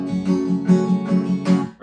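An acoustic guitar is strummed on every down and up stroke, giving an even, steady chordal rhythm with sharp attacks on each stroke, played close and fairly loud, with no talking.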